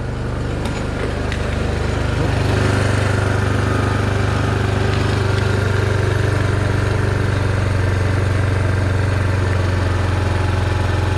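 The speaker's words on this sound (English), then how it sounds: "with it in neutral. Idle is really high." A four-wheeler's engine idles high in neutral, with a loud, steady, continuous drone close by and no talk.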